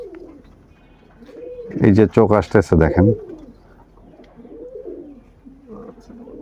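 A Golala breed pigeon coos in a loud, close burst of several pulsing notes, followed by softer calls while someone talks nearby.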